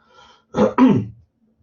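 A person clears their throat twice in quick succession, two short rough bursts close to the mic, followed by quiet.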